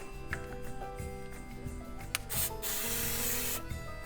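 Short clicks and faint rustling give way to a couple of brief hissing sprays from a spray bottle nearby, misting a bird seed wreath.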